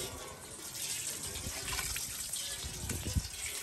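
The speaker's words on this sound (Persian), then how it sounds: "آبو پر میکنیم توی ظرفامون" Water gushes and splashes steadily into large containers for soaking rice for about fifty servings, a continuous close pouring rush with bubbling and occasional knocks.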